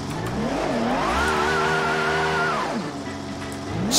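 A Formula One car engine in a video game revs loudly and continuously, its pitch sweeping up, holding high, then dropping and starting to climb again, with no talk over it.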